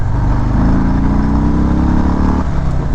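A 2019 Harley-Davidson Breakout 107 roars loud and close as the throttle is opened, its deep V-twin engine rising in pitch, holding, then easing off near the end, with no talking.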